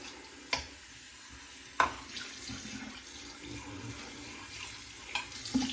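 Water runs from a tap to rinse an alum block, a soft, steady splashing flow heard up close with a few sharp knocks and clinks over it.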